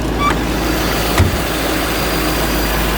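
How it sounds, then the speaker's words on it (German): A 1971 Mercedes 280 SE 3.5 Cabriolet with matching-numbers engine idles close by, a steady low rumble holding level throughout, with one brief knock partway and no talking. "Maschine haben wir am Laufen."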